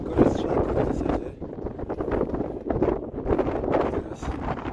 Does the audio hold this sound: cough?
no